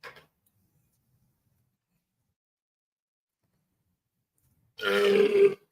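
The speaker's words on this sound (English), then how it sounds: "Burp." A single loud, close burp of about a second rings out after several seconds of near silence, with only a faint click at the start.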